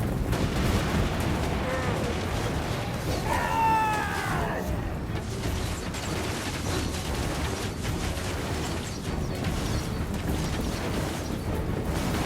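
Troops firing guns at goblins in the video game Total War: Warhammer, a continuous crackle of massed volleys and booms beneath battle noise, with a brief rising shriek early on.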